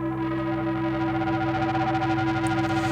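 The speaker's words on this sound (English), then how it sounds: "the send is bringing a lot of gain and crunch" Feedback drone tone from an Elektron Tonverk, its send pushed to add heavy gain and crunch: a dense, steady distorted drone with layered sustained harmonics and a gritty, slightly pulsing texture, loud and continuous throughout.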